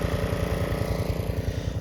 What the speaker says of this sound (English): this is going to be a video of the first cutting of the year with the Swisher pull behind rough cut mower